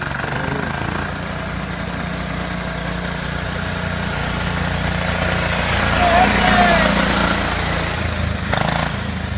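A parked Craftsman lawn tractor with a Marine Corps theme idles close by, its engine giving a steady, loud, low rumble that swells slightly partway through.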